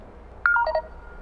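A phone dials out for a call during an on-stage Optus demonstration at a tech conference keynote, giving a quick run of about five clear, bright touch-tone beeps over quiet room hum.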